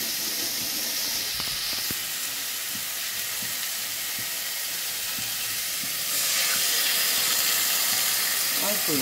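Water poured into a hot pan while cooking a Bengali Lakshmi Puja bhog, a steady loud sizzle and hiss of steam that swells sharply partway through and keeps bubbling.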